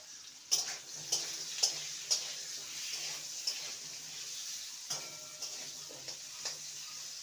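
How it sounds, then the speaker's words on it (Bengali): Potato pieces, cut thick and long, fry in oil, with a steady soft sizzle and a series of sharp stirring clicks of a utensil against the pan, recorded close and fairly quiet. "আলুটাকে ভেজে নেব"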